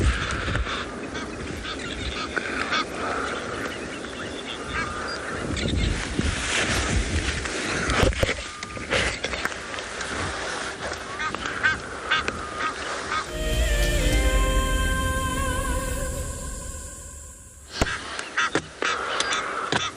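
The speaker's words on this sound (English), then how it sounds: "just enjoying these beautiful scenes and the sounds of these birds" Goose-like honks and other bird calls ring out repeatedly across open water at Chitwa Dam, South Africa, loud and overlapping, with a steady wash of background noise.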